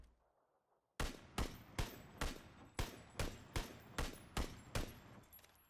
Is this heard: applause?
no